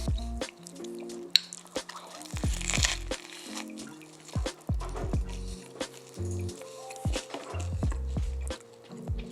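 Repeated crunchy bites into a homemade burger with cheese, salad and meat on bread, close up, with wet squishy chewing and sticky mouth sounds between bites, no talking.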